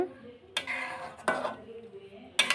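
A spoon stirs olives through oil for an olive pickle, making three distinct scraping, clattering strokes against the pan, separated by quieter gaps with a soft background hum.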